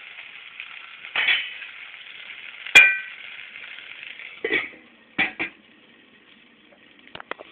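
A metal lid set onto a cooking pan of salted vegetable pieces for sabji upma, giving a sharp clang over a steady sizzle, followed by a few lighter knocks and clinks.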